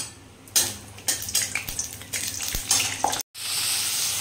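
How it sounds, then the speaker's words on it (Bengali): Peanuts fry in a little hot oil in a pan, a close, steady sizzle broken by repeated scraping stirs, then a brief cut to silence before a louder, even hiss resumes. "এখানে অল্প করে একটু বাদাম ভেজে নিচ্ছি"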